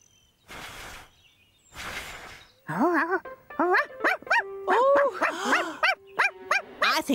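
A cartoon dog barks in a lively run of yaps and howling whines after two soft rustling bursts, loud and close, the barks coming in quick uneven clusters.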